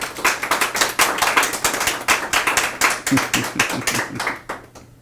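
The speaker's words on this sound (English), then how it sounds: "another round of applause again for Indigenous Medicine and Phi Institute, Mr. Douglas DeBecker" A television show audience gives a round of applause, dense and close, with clapping that keeps a busy, uneven rhythm before it quickly tapers off at the end.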